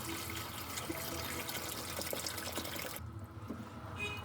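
Water pours steadily into a cooking pot for beef trotters, a continuous splashing rush that cuts off abruptly near the end before a brief trickle.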